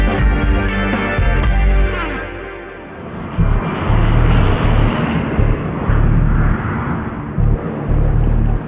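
A fixed-wing aircraft at Heathrow airport roars loudly and steadily, a broad continuous engine rumble and rush that dips briefly before surging back to full strength.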